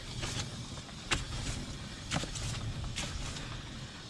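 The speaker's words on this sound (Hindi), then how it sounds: "ये नॉइस आ रही है इसके व्हील बैरिंग से।" Worn car wheel bearing turned by hand, giving a faint grinding rumble with a few sharp clicks and scrapes spaced about a second apart, recorded close and without talk.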